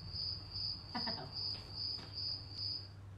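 Cricket chirping used as a sound effect, a crisp high trill pulsing in regular short bursts about twice per second over a faint low hum.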